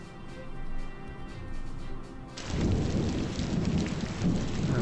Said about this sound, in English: And we got some rain, it sounds like.